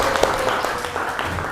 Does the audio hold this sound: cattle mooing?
no